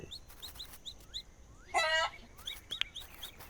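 Chickens clucking on a farm in the video game Dinkum, with a brief raspy clucking burst in the middle amid repeated short, bright bird chirps over a soft background.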